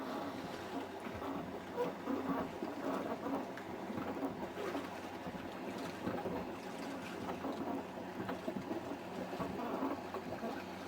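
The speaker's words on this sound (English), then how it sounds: "haven't seen any boats on the lake, but here's one coming this way" A boat's engine drones steadily at a distance as it approaches on Raquette Lake in October, mixed with outdoor ambience, cooing pigeons and light wind, holding a fairly even level throughout.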